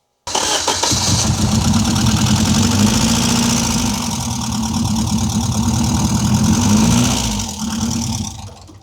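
An engine left unused for 15 years starts and runs at a steady, loud idle for several seconds, then dips and stumbles near the end as if about to stall.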